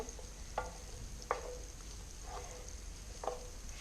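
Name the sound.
stirring sauce in a pan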